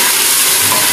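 Lamb from a sacrificial dumba frying in oil with browned garlic inside a pressure cooker, giving a steady, close, loud sizzling hiss that runs unbroken and without voices.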